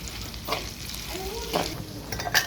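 Bitter gourd pieces with salt frying in a pan give a steady, close sizzle and crackle throughout, with occasional stirring scrapes and a brief voice murmuring underneath.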